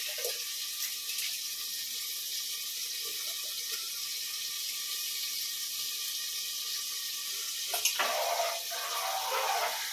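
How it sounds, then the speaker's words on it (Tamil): Water pours into a cooking pot, running and splashing steadily for several seconds, a continuous hissing pour with a brief louder surge near the end. "இதை தான் இந்த தண்ணியோடு தான் ஊற்ற போகிறோம்"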